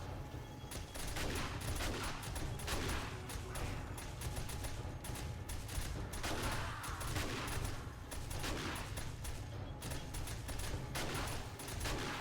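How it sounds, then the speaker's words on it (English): Rapid, dense bursts of auto shotgun fire ring out continuously during a horde night in the survival game 7 Days to Die, layered with constant combat clatter and mechanical noise, loud and without any talking. "Love me some auto shotgun."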